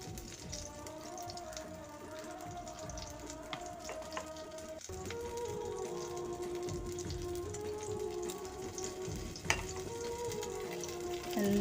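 A batter mixture poured over a hot pan, frying with a steady crackling sizzle throughout, a few faint clinks over the continuous fizz, moderately quiet and close.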